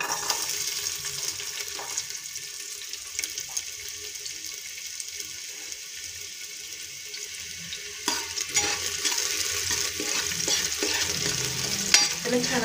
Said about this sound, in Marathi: आता ह्यामध्ये घालायचा आहे आपल्याला कापलेला कांदा